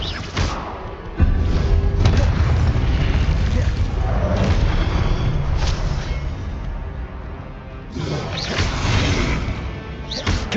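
A Confringo fire spell bursts in Hogwarts Legacy, part of a dense run of booming, thudding blasts and crashes that stay loud throughout, with a fresh heavy impact near the end.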